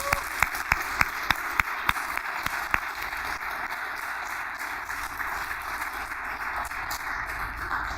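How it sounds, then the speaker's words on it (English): Cadets at a Ft. Pierce Westwood school hero award ceremony give a round of applause that builds into a steady, dense wash of clapping, with a few sharp claps standing out at the start. "You need to give yourself a round of applause."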